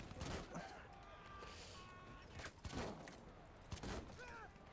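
Scattered gunfire in the video game Battlefield 1, distant shots and brief bursts mixed with battlefield ambience while someone talks over it.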